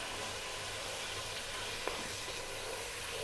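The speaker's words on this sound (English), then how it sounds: "Next up, I'm gonna add some onion. I've got 2 decent sized onions there that I've cut nice and small" Chopped onion and garlic frying on fairly high heat for beef biryani, a steady broad hiss of sizzling with no distinct stirring, alone and without voices.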